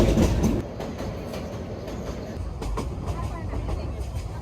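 A passenger train runs on rails between Bhairab and Brahmanbaria in Bangladesh, with a steady low rumble and rhythmic wheel clatter. A louder jolt comes at the start, and faint voices may sit under the noise.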